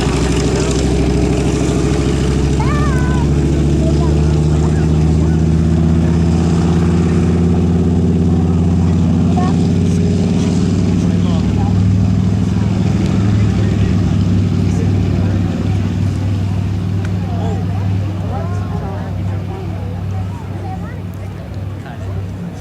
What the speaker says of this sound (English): That could be the sound of the propeller tips going supersonic.